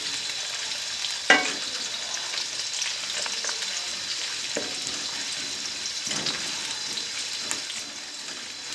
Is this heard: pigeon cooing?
no